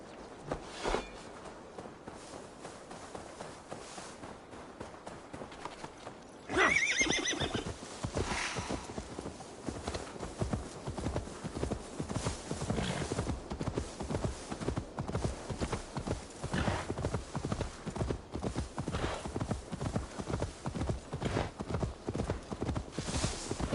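A horse in a video game whinnies loudly, then its hooves clip-clop in a steady, rhythmic gait for a long stretch, close and clear.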